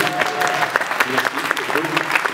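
Audience applause in a hall during a French public debate, given for Palestine, dense and steady for a couple of seconds with voices and cheers mixed in.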